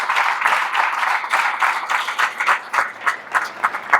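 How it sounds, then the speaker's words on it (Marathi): An audience claps loudly and continuously at a devotional gathering marking Ambedkar's birth anniversary, a dense crowd applause with a few sharper individual claps and no speech. "एकदा जोरात टाळ्या व्हायला पाहिजे"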